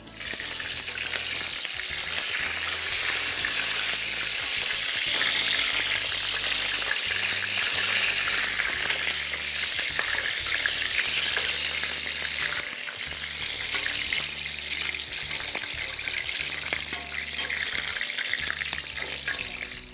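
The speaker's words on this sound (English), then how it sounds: "we're gonna let this fry for about a minute until they're browned on all sides" Peppers frying in a hot pan for a Turkish-style dinner, a continuous loud sizzle and crackle of oil that holds steady throughout, with faint stirring and scraping underneath and no talking.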